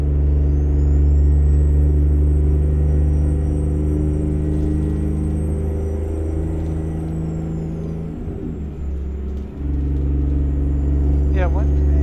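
A Kenworth 521 truck engine in American Truck Simulator, hauling a 1950s Fruehauf tank trailer, drones steadily and loudly in a deep low rumble, and a brief hiss-like burst comes near the end.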